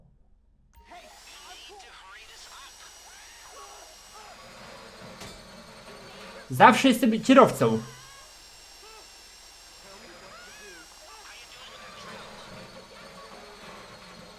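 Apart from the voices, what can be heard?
drill during a casino heist in GTA Online video game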